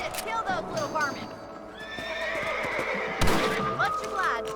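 Horses in the video game Red Dead Redemption neigh and whinny several times over hooves clip-clopping, while characters talk under the sounds.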